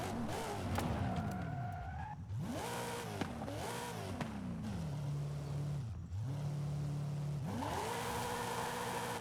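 An S-chassis car with a V8 engine drifts in Forza Horizon 5, the engine revving up and down in sweeping rises and falls with continuous tire squeal, loud and close throughout.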